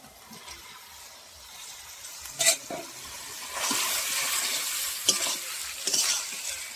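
Fried cabbage drops into a cooked spice masala in oil, and a soft sizzle swells after a couple of sharp clatters, then carries on with stirring scrapes and occasional knocks of the spoon.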